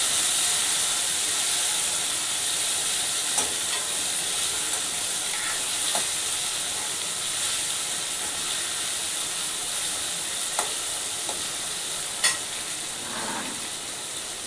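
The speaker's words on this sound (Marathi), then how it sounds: "कांदा लाल झाला आहे, आता त्यात टोमॅटो टाकूया। ते पण परतवून घेऊया।" Browned onion and freshly added tomato sauté in a pan for a Maharashtrian gawar bhaji, a constant loud sizzling hiss broken by occasional sharp clicks of a spoon stirring.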